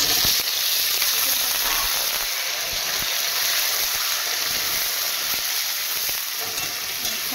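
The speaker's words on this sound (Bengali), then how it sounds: "এটাকেও এবারে ভাজবো আমি আলুটার সাথে" Parboiled vegetable frying together with potatoes in a pan gives a loud, continuous close sizzle with occasional stirring scrapes throughout.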